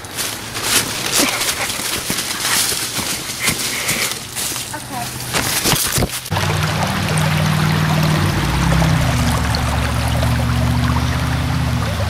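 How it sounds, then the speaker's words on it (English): Congo River water flowing and trickling in the rainforest, a continuous rushing wash with occasional clatter and bird-like calls, shifting to a steadier louder flow partway, no talk heard. "This is the Congo River."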